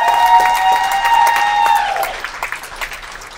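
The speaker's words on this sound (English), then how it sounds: "give all of them a round of applause" Audience applause at a public open meeting builds into a dense wash of clapping, with a sustained tonal ring over the first two seconds, then thins into scattered individual claps toward the end.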